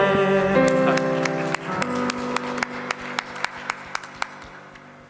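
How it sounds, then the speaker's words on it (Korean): Clapping at a Sunday youth worship service as sustained music fades out, then a string of distinct, fairly evenly spaced claps that grow fainter toward the end. "큰 박수."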